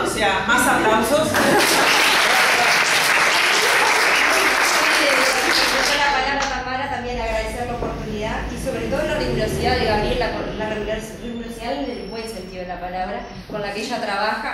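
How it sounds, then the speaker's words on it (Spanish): Applause from an audience at a research presentation fills the first several seconds, then fades as a speaker talks over scattered claps and light laughter. "Más aplausos."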